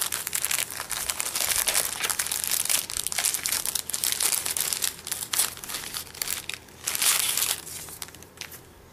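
A handmade card with a small goodie tucked inside is opened up, producing continuous close crinkling and crumpling of paper and packaging with brief tearing bursts, loud and busy throughout, with no one talking.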